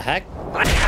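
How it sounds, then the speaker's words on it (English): A brief laser beam gun firing in Halo Reach, two short bright energy bursts with a hissing sweep between them, fairly loud and close. "Oh, it's a laser beam!"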